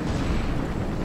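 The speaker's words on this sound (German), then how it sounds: "der hat noch eine Granate geworfen" A grenade explodes in the World War II shooter Battlefield 1942 (Eve of Destruction mod), a loud, deep rumbling blast whose roar fills the whole moment without a break.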